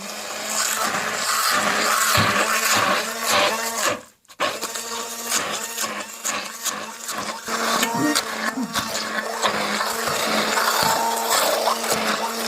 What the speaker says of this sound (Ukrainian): Вмикаємо блендер і перебиваємо.